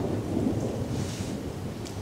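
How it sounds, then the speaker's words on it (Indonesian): Rain falls steadily outdoors with a low rumble of thunder underneath, a soft continuous wash of drops and a brief brighter patter near the end, with no voices. "hujan sudah turun"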